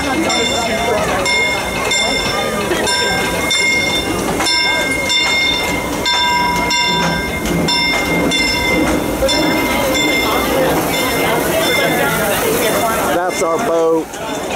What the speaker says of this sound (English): We're taking a short train ride, Fresh Baked, to Toontown.